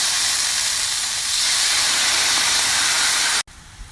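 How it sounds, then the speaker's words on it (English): Wine poured into a hot pan to reduce for chicken piccata hisses and sizzles loudly and steadily for several seconds, then cuts off abruptly. "I'm gonna take my wine and I'm gonna reduce it down."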